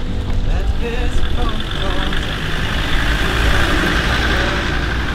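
A car's engine hums steadily and close by on a wintry evening, a continuous mid-pitched drone with broadband road noise that holds its level throughout.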